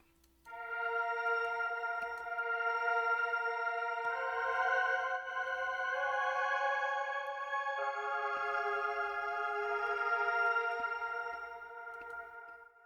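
A melodic beat run through a Layerizer granular effect and Valhalla Vintage Reverb: layered sustained chord tones shift every few seconds, shimmering and washed out, playing steadily alone without any voice.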